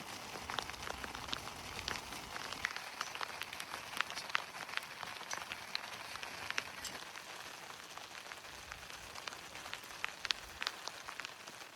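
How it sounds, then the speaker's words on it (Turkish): Heavy rain falls on a caravan roof at a campsite during a violent downpour, a steady dense patter of drops close by with scattered sharper splats and no talk. "Çok yağmur başladı."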